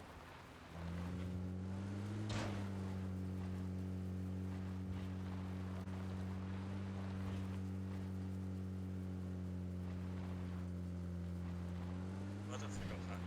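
A motorcycle ridden in the video game PUBG holds a steady, close engine drone that shifts pitch slightly and swells near the end, with a brief sharp noise early on.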